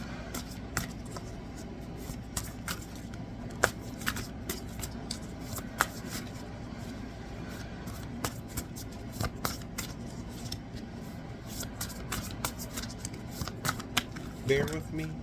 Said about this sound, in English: Bear with me with my shuffling.